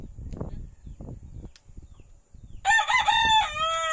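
A rooster crows loudly near the end, a long strained call after a stretch of scattered background clatter and low rumbling.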